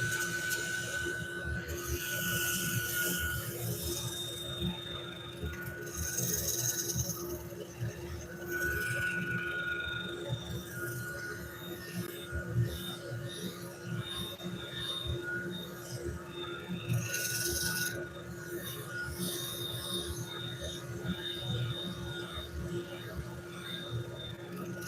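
A wood lathe spins a recycled-wood platter while 80-grit sandpaper is pressed against it, giving a steady close mechanical whir and hum with a rough, gritty sanding hiss that swells and fades throughout.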